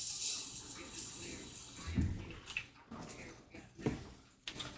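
Water pours into a pot of miso ramen broth to thin it, a close splashing, hissing stream with a few burbles and drips as it tapers off.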